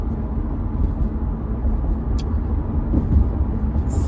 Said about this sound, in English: Look at this truck just blew right in front of me